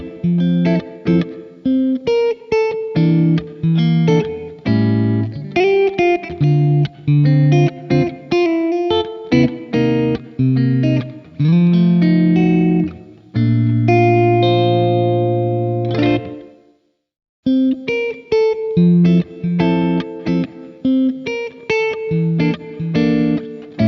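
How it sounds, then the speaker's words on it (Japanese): An electric guitar through a Strymon BlueSky reverb pedal with pre-delay, played as a run of picked notes and chords with reverb trailing each one, a brief silence near the end, then more playing. "つまみを上げるほど弦音に対して遅れてリバーブが始まります。"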